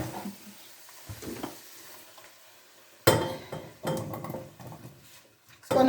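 Frying chicken drumsticks are moved from one pan to another, with bursts of sizzling and metallic clatter of utensils and pans separated by quieter stretches, and a voice faintly present in the background.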